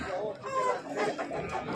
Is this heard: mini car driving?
no